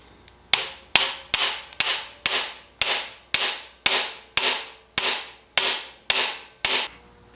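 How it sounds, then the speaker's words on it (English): An impact screwdriver is struck hard with a hammer on stubborn engine screws of a 2004 Honda Rebel CMX250C motorcycle, giving about thirteen sharp, evenly spaced metallic blows, each ringing briefly before the next, loud and close. "So, we're going to use the impact screwdriver."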